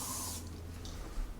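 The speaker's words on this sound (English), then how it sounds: "A little spray on your hand" Bug spray gives a short, close hiss onto a hand, a single brief burst that fades into faint hissy ambience.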